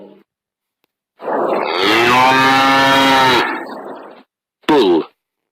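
A bull gives one long, loud, low moo with a rich harmonic tone lasting about two seconds, followed after a pause by a short, sharp second call, both heard alone and close.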